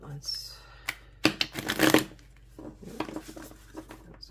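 Tarot cards are shuffled up close in a quick flurry of riffles and soft slaps, with quiet talk around them.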